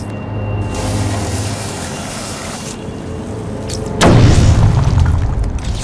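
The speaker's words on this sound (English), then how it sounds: "The only way to destroy it is to use explosive gel." Explosive gel detonating on a Titan container in the Batman Arkham City video game, a sudden loud boom bursting over a steady game ambience, then a rumbling roar that trails on.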